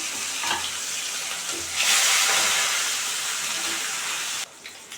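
Fish pieces fry in hot oil with a steady, close, crackling sizzle that swells for a moment and then settles, with no voices over it.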